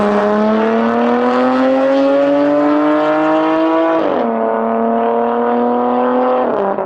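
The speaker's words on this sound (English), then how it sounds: "So what they've done is send out a full equal length Valvetronic exhaust system" A BMW F82 M4 with its S55 engine revs hard through a Valvetronic equal-length exhaust, a loud sustained rising drone with strong harmonics, dipping sharply partway before holding and dipping again, close and alone with no talk.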